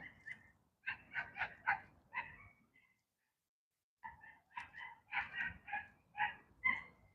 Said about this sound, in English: lady's dog is chasing a rabbit.